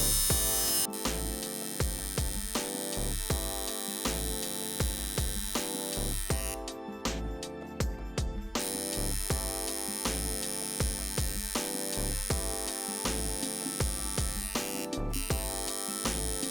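A Corun tattoo machine runs steadily with a continuous buzzing hum and a rhythmic pulsing texture, close and alone, with no voices over it.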